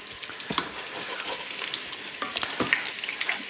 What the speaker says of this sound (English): brown off our pork neck. We'll make sure that all 4 sides get some color.